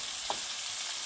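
Potatoes and onions fry in a pan with a steady, close hiss and crackle, broken by a single brief stir or clink.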